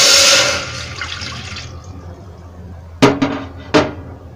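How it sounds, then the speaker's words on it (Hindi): A cup of water splashes and pours briefly into a pot at the start while making sweet boondi, then fades, followed by two sharp metallic clanks of the pot, with no talking. "ये भिगोने के अंदर हम एक कप पानी डाल देते हैं"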